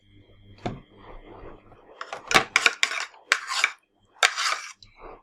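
Lid being screwed onto a container of homemade slime, a series of close plastic scrapes and clattering knocks in quick irregular bursts, with no one talking.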